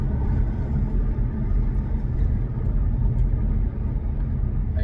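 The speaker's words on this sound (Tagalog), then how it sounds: "Makikita nyo yung mga traffic ngayon." Steady road traffic in Canada, a continuous low rumble of cars and buses passing on a busy, construction-slowed roadway, loud and unbroken throughout with no voices.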